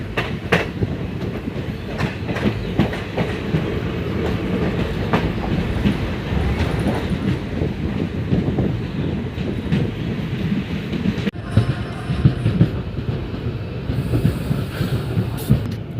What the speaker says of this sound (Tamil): நானும் யாசிக்கு ரெண்டே பேர் தான் இருக்கோம் அந்த கோச்சுக்குள்ளேயே கொரடச்சேரியிலேருந்து கிளம்பியாச்சுங்க